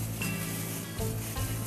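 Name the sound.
boiling water in a pot with cilok dumplings added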